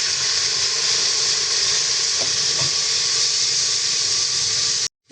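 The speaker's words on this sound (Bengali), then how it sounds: "এখন আমি দিয়ে দেবো এর ভিতরে মাংস" Goat meat tossed into a hot pan of fried onions, giving a loud, steady sizzling hiss close by with faint stirring scrapes, then stopping abruptly at the end.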